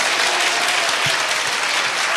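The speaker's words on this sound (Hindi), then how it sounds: "जोर से ताली बजाइए" A church congregation claps loudly and continuously, a dense sustained wash of many hands with no voices over it.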